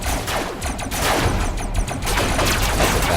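Loud, dense battle noise from robot vehicles in RoboCraft, with a cannon shot buried among continuous booming and crackling fire that never lets up.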